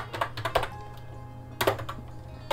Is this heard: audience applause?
no